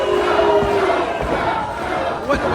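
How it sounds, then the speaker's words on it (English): A wrestling crowd at a CCW show in Nashville chanting and cheering in celebration, a dense, loud roar with rhythmic shouted chant pulses throughout. "the crowd is cha-chaing in celebration here"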